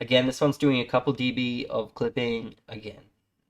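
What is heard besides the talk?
No everyday noise stands out behind the speech.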